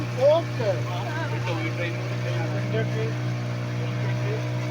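A boat's engine on a river ride drones as a steady low hum with a strong tonal buzz, running continuously beneath excited talking voices.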